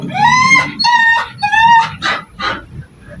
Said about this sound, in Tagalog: Ingay pa ng aso ko.